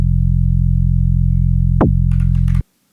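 A Strudel synth note with a snappy pitch envelope and decay curve, a steady tone that sweeps sharply downward near the end, followed by brief noisy bursts before cutting off.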